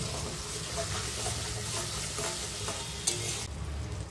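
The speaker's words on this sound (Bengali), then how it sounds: "এই তেলের মধ্যে দিয়ে দেবো গুলে রাখা গুঁড়ো মশলাগুলো।" Ground spices soaked in water and poured into hot oil for an egg curry, giving a steady, soft crackling sizzle with light stirring, close and continuous.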